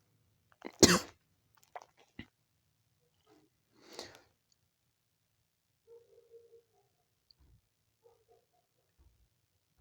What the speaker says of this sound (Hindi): सॉरी थोड़ा खांसी आ गई थी बीच में।